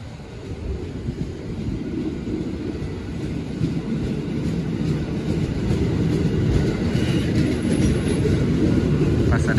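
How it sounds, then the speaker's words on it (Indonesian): A commuter train at Jakarta Kota station rumbles nearby with a steady low roar and faint rail clatter, a continuous heavy drone that builds slightly over about ten seconds. "Jadi kita naik kereta ini nih."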